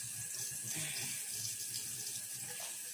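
Cold water runs steadily from a tap into a sink, a continuous close splashing hiss with no voices over it.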